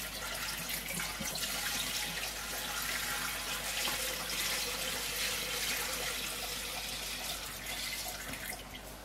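Cold rainwater pours steadily into a guppy breeding tank, a continuous close splashing rush like a running tap that holds at an even level throughout, with no talking.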